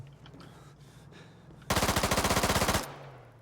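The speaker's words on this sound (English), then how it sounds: "I'm just gonna put a lot of fire down." Automatic gunfire from a PPSh in the video game Antistasi Ultimate, set in Takistan, a loud sustained burst of rapid, evenly spaced shots lasting about a second after quieter background noise.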